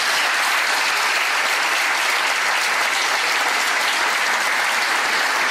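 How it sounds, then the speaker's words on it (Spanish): Audience applause fills a folk music show at a folklore contest in Oviedo, a dense, steady clapping from a crowd that stays loud and even throughout. "un aplauso"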